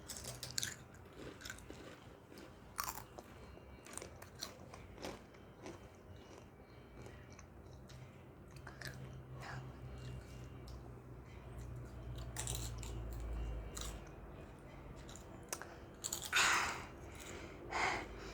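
Someone biting and chewing spicy Doritos Hot Corn chips, quiet sporadic crunches spread across a mostly hushed stretch, with a louder burst near the end.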